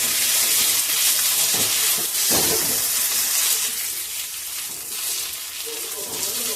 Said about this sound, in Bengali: এবার আমি সবকিছু ভালো করে